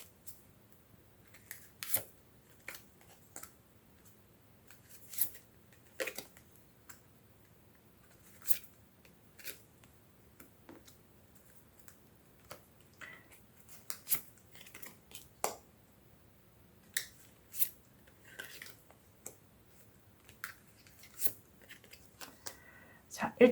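Tarot cards being shuffled and drawn, with soft irregular flicks, snaps and slides of card stock scattered across a quiet background.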